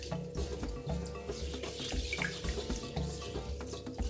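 Tap water runs into a pot while rice is rinsed and massaged to remove starch, a steady splashing stream with a soft repeating low background pattern and no talking.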